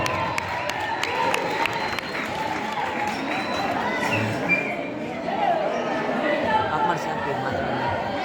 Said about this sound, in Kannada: ಎಲ್ರಿಗೂ ಕೂಡ ನಾವು ಜೋರು ಚಪ್ಪಾಳೆಯೊಂದಿಗೆ ಸ್ವಾಗತವನ್ನ